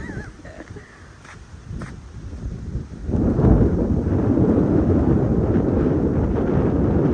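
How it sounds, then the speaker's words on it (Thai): Strong wind roars steadily into the microphone, quieter at first and then surging into a loud, continuous rumbling gust that holds to the end. "โอ้ลมพี่น้อง ลมไทยลมมาเข้าหน้าหนาวแหละแม่"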